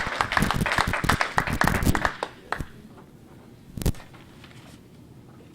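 Convention audience applause after a speech, brisk clapping that is full for about two seconds, then breaks off into a few isolated claps and a brief final burst over a quiet room.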